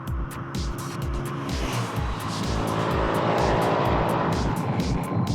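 An adventure motorcycle on adventure-type tyres runs hard at speed along a road, its engine a loud, steady pulsing drone mixed with rushing wind noise and no speech.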